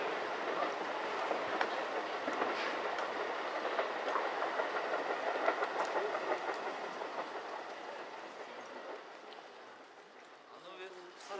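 A JR Mito Line train passes, producing a steady broadband rumble and rattling of rail cars that holds for several seconds before slowly fading, with faint voices nearby.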